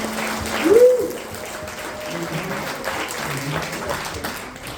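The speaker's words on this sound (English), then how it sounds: "how about one more big round of applause for the guy who we're going to miss so much, Mr. Keenan Zach" An audience at a Young At Heart Trio show gives a big, continuous round of applause for the performer Keenan Zach, with a whoop or whistle rising near the start of the steady clapping.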